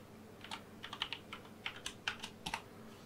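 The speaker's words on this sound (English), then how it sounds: "I'm going to go ahead and put in my password" Quiet clicks of fingers typing a password on a computer keyboard, around a dozen light keystrokes in an irregular quick rhythm, close by and alone.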